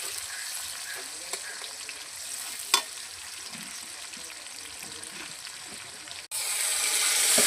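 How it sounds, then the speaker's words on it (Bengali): Whole spices, onion and chilli sizzle in hot oil as the base for a meat curry, a steady close hiss with occasional stirring scrapes, briefly cutting out near the end before the frying hiss returns louder. "মাংসের জন্য ফোড়ন দেওয়া হয়ে গেছে, পেঁয়াজ লঙ্কা জিরে এলাচ দারচিনি সব দেওয়া হয়ে গেছে।"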